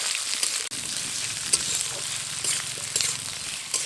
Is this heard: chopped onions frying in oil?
yes